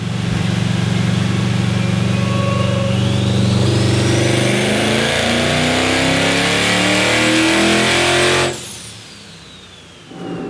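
A twin-charged V8 Ram TRX pickup revs hard and accelerates, a loud rising roar with a climbing turbo whistle as the turbos spool, then the engine note drops off abruptly near the end.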